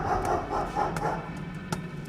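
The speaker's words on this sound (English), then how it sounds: "Carrie is jarred awake by the sound of barking dogs" Dogs barking in the early morning, several sharp barks and yips spaced irregularly across two seconds, fairly close, with no talk.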